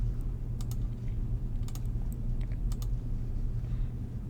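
Numbers being typed on a computer keyboard at a desk, a quick irregular run of light key clicks over a steady low hum, fairly close and quiet.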